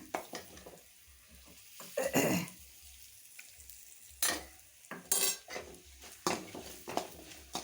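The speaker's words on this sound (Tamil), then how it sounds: "நல்லா கிளறி விட்டுட்டு பொறிஞ்சிருச்சு" Curry leaves being stirred in a hot pan of oil with a spoon, giving scattered scraping clinks and short bursts of crackling sizzle between quieter moments, close by with no talk.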